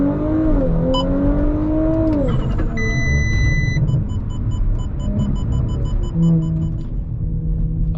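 Audi B9 S4 engine held at launch control, revs climbing steadily then held high in a loud, continuous drone, with some electronic chimes partway through and a low rumble underneath.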